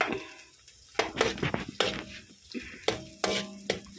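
Chorizo de Bilbao sautéing with onion and garlic in a pan, with a bright sizzle broken by repeated scrapes and clinks of a utensil stirring against the metal, close up and without talking.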